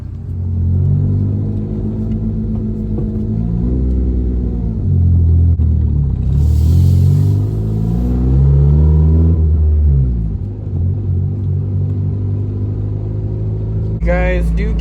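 A Honda car with an EJ6 engine drives along a road, its steady mid-range engine rumble rising and falling through gear changes, with a person talking over it throughout.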